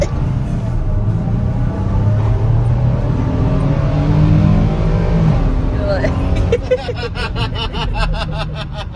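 A rented U-Haul Sprinter van accelerates hard, its engine drone rising steadily and loud from inside the cabin, with people talking over it.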